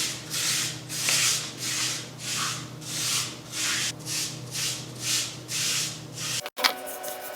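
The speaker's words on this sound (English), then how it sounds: "I brush in upward strokes, always towards the heart, for gentle exfoliation and to boost lymphatic drainage" A dry body brush sweeps over skin in upward strokes, about a dozen soft, even scratchy swishes at a regular pace, close and quiet, ending with a brief knock.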